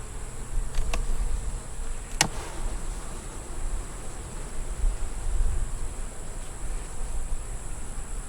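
Honeybees hum steadily at a hive on a hot South Carolina day, a low continuous drone with a few faint clicks and a high steady whine above it.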